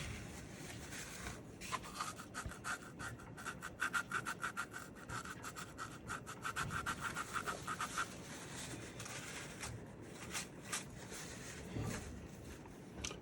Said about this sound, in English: this is what's called a Fritz scrubber